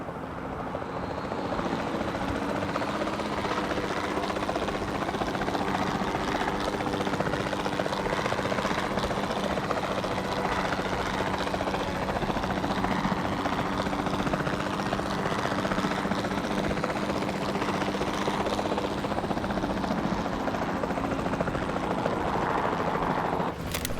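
A video game helicopter drones steadily overhead, its rotor wash a loud, continuous roar with no voices throughout.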